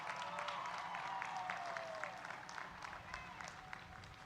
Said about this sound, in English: will you graduates please give them a rowdy hand of applause?